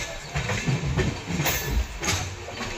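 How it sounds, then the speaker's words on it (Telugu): A long-distance passenger train from Vizag rolls into Tirupati railway station. Heard from on board, it gives a low rumble with intermittent wheel clunks and rattles at a moderate, fairly quiet level. "మనం తిరుపతి రైల్వే స్టేషన్లోకి ఎంటర్ అవుతున్నాం."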